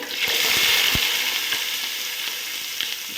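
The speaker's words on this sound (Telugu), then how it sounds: "సరిపడగా ఆయిల్ వేస్తున్నాం ఆయిల్ వేడెక్కింది పచ్చిమిర్చి ఉల్లిపాయ" Green chilies and onion frying in hot oil in a kadai for Nellore-style fish pulusu, giving a loud, dense, steady sizzle with faint crackles and a couple of utensil clicks, close by and without talk.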